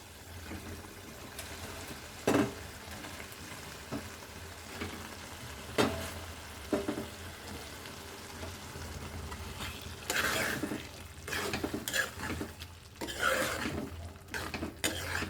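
Boiled eggs are stirred into a tomato curry in a pan, with a soft continuous frying sizzle broken by scraping spoon and pot clanks that grow busier and louder toward the end, and no talk.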